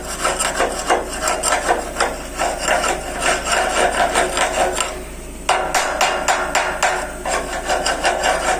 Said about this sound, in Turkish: Şöyle demir yardımıyla kırıyorum